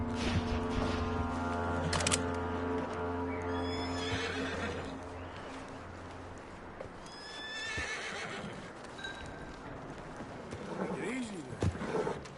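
A horse in a story-driven video game neighs in a long whinny over steady hoofbeats and background game sound, with voices speaking in the clip.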